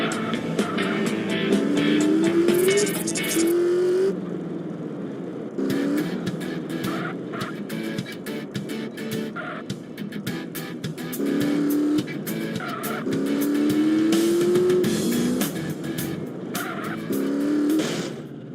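A car in the video game Grand Theft Auto San Andreas revs and drives hard, with repeated rising engine notes and tire squeals in bursts, loud and continuous with a short lull in the middle.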